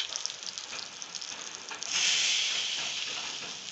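Cumin seeds sizzle in hot peanut oil for a tempering, a soft crackling hiss that surges into a brighter, steady frying sizzle halfway through, close and quiet with no talking.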